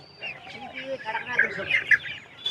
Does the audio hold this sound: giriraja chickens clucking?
yes